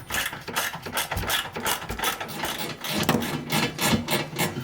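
A hand ratchet loosens 10 mm bolts on the rear suspension of an NB Miata, giving a close, continuous run of rapid ratcheting clicks and scraping strokes.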